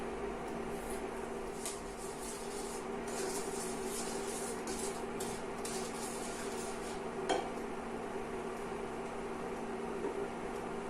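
Sugar melting into vegan butter in a skillet, a soft continuous sizzling hiss with light stirring scrapes and a single clink near the end.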